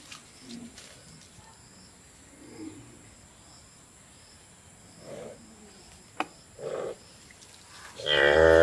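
A cow moos a few times, low and fairly distant, spread across a quiet outdoor scene with faint birds and insects, ending in a sudden louder burst of nearby noise.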